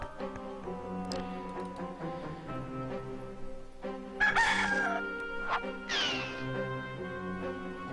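A chicken crows in the adventure game Discworld 2 over a steady, droning background of game music, giving two shrill, wavering cock-a-doodle calls a little over a second apart.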